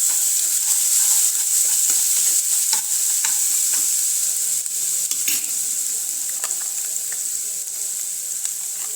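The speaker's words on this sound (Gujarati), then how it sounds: "આદુ મરચાં અને લસણની પેસ્ટ છે સરસ રીતે આપણે આ પેસ્ટને સાતળી લઈશું." A ginger, chili and garlic paste sautés in a hot pan with a loud, close, continuous sizzle, broken by scraping stirs and small crackles, and nobody speaks.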